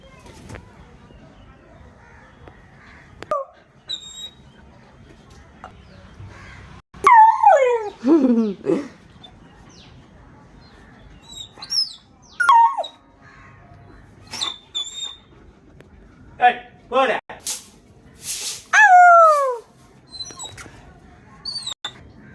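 A dog whines and cries nearby in a run of high, wavering, drawn-out cries with short pauses between them, and a person's voice is heard at times.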